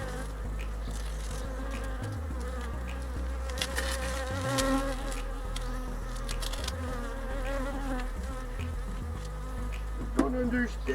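Honeybees swarm close around a beekeeper during queen-rearing work, a dense, steady buzz with shifting pitches from many insects filling the whole stretch, loud and continuous with no voices.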